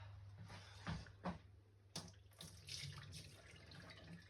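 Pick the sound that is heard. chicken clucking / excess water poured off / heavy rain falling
excess water poured off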